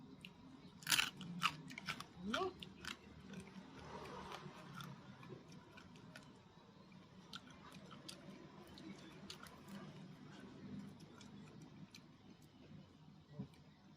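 Crispy fried ears being chewed at close range, with sharp crunchy bites clustered early, then softer steady mastication with scattered clicks over a faint background hum.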